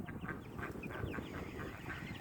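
Young hens cluck softly and steadily among a small flock out in the yard, a close, continuous low murmur of fowl calls with no talking.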